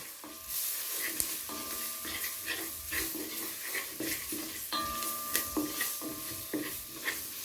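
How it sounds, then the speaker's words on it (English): Curry powder is stirred into onions and garlic frying in a pan: a soft, steady sizzle under repeated scraping and clinking stirs, fairly quiet and close. "We're just going to stir that in."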